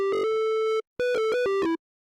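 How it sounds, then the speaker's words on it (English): Two bursts of a bright, buzzy synth sine wave with added drive and rich harmonics, the second stepping through a few pitches before cutting off into silence. "We're going to add drive to the sine wave."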